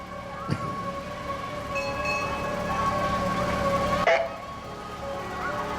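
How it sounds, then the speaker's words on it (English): A fire department steam train passes in a Halloween parade in Centerville, Tennessee, with a steady rumble and a long whistle-like tone, outdoor crowd noise around it, and a sharp horn blast near the end. "Up next, we have the Centerville Fire Department steam train."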